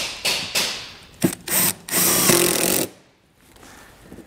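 A power drill drives fasteners into an RV observation camera mount on a 2020 Mercedes, with short whirring bursts building to one longer sustained run before stopping, close and loud with no talking.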